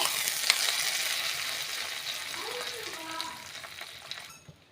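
Mustard seeds, lentils, curry leaves and dried red chillies frying in hot oil for a curry-leaf chutney, giving a steady close sizzle and crackle that holds throughout and thins toward the end.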